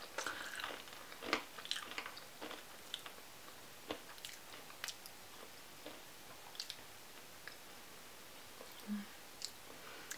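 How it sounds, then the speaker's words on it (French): Crisp crunching bites of a snack, irregular sharp crackles repeating over several seconds, close and fairly quiet, with no talking. "ça te permet vraiment d'entendre que bah, ça croque"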